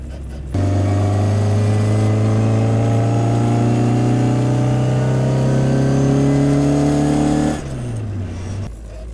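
A 1968 Austin Mini Cooper engine with a straight-cut gearbox holds a steady loud drone with a rising gear whine layered on top, running continuously for several seconds before easing off near the end.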